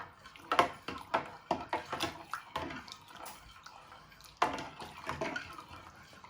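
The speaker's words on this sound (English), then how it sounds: "you want to give it a good stir with your fork so it all evaporates into the water" A fork stirs water in a measuring jug, scraping and tapping against the sides and bottom in a steady circular rhythm of soft clinks and sloshes, close by and fairly quiet.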